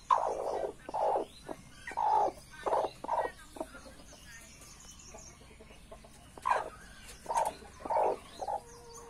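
A striped mother hen clucks at her nest, a series of low, rhythmic clucks in clusters with brief pauses, near and moderately loud over a quiet background.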